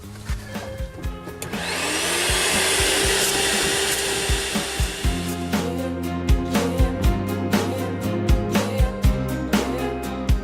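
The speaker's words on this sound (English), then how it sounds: "the inbuilt Hoover keeps everything shipshape on board." A built-in Hoover vacuum cleaner aboard a DAF camper runs with a steady whooshing roar for a few seconds. It then fades, and a series of rhythmic knocks and thumps follows.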